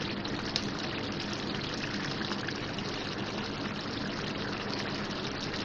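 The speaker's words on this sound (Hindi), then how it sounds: "अब मैं क्रीम डाल रही हूँ इसमें।" Cream poured into a simmering chicken handi curry in a pot, a steady, continuous liquid rush with a soft hiss that holds evenly throughout, with no voices.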